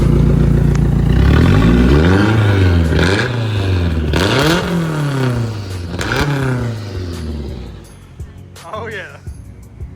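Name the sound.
Nissan 240SX engine revving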